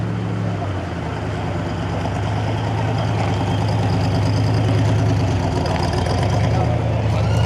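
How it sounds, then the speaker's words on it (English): A Peterbilt truck engine at a show turns over and settles into a loud, steady diesel idle, a deep continuous rumble close by with a faint voice in the background. "I hear the Peterbilt starting up"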